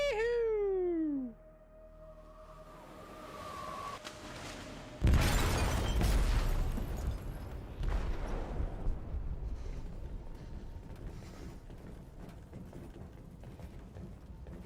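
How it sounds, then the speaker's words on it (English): Explosive detonating in a ship's hold in Detroit: Become Human, a sudden heavy boom after a few cartoonish meowing tones and a quiet stretch, then a long rumbling, crackling aftermath that slowly fades. "They detonated an explosive in the hold."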